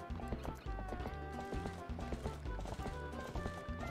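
Horse hooves clip-clop in a steady, quick rhythm as a horse trots in The Legend of Zelda: Twilight Princess HD, loud and close over a low game backdrop.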